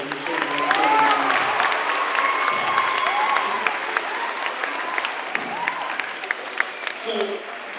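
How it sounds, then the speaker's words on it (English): A school audience at an anti-bullying presentation gives John a steady round of applause with a few cheers, lasting several seconds while voices talk over the clapping. "Let's give John a big round of applause for sharing that"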